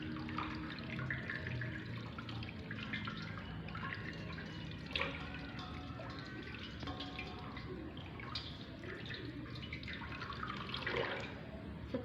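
Tap water runs steadily while hands are rinsed under it, a soft continuous splashing with small irregular drips and spatters, fairly quiet and close.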